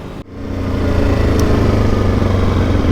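Dirt bikes cruise along a bitumen road toward Cooktown, a steady, loud engine drone building after a brief opening dip and holding an even, continuous note throughout.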